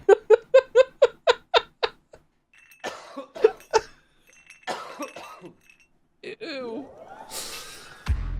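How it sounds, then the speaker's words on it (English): A rapid series of about eight sharp coughs comes first, followed by scattered sporadic coughs, a gasp and some rustling in a quiet room. "We must hear the coughs."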